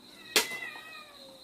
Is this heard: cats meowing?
yes